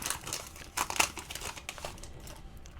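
A 2020 Topps Star Wars: The Rise of Skywalker trading card pack wrapper being torn open, quiet close crinkling and crackling of foil in a few quick bursts, fading off toward the end.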